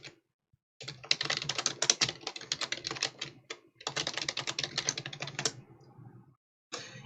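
Rapid typing on a computer keyboard in two long bursts separated by a brief pause, dense clattering keystrokes close and fairly loud, with a short final burst at the end; no talking.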